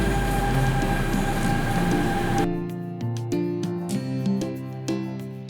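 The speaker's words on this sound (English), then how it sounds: "Shanghai Metro is one of the biggest lines in the world" A Shanghai Metro train rumbles loudly with a steady hum, then cuts to quieter rail noise with rhythmic clicks and rattles as the carriage rolls along, no talking.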